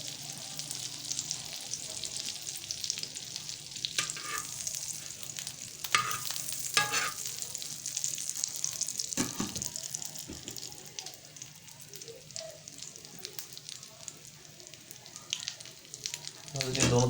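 A bun toasts in butter in a pan over low heat, giving a steady soft sizzle with occasional crackles and scraping stirs. The frying sound continues throughout at moderate loudness.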